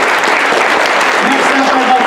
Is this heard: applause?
yes